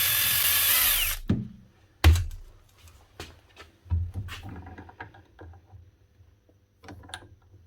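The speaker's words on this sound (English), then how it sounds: "we're just going to have to see if we can drill a little bit into here and then maybe tap it out" A power drill boring into a broken power tool's shaft during a repair, with a loud whirring burst up front followed by several short bites and clunks of the bit and tool, close and alone.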